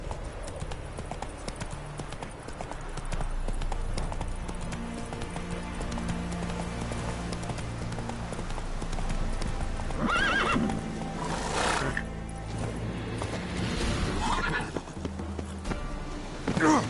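Roach, a horse in The Witcher 3, clip-clops along at a steady gait, then gives loud neighs and whinnies partway through, with game sounds underneath.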